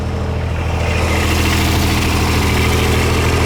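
John Deere 318 garden tractor with a 44 loader, its engine running at a steady idle close by, a loud, even, buzzing drone with no talk over it.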